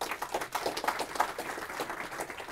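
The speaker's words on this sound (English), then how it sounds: "Big hand of applause, please." An audience at a FOSDEM Internet of Things developer room claps for an incoming speaker, a dense patter of many hands at moderate volume, steady over a couple of seconds.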